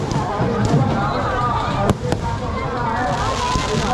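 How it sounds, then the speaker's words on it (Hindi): Firecrackers burst continuously at a crowded Ravan Dahan festival, a dense loud crackle with a couple of sharp louder bangs near the middle, while people talk over it. "पटाखे ही पटाखे।"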